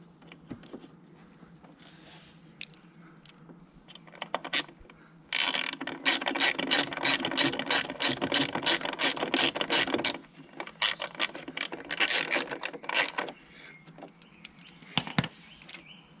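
A ratchet tightens a bolt back in on a motorcycle, rapid clicking strokes in bursts, quiet and close, with a long run of fast clicks in the middle.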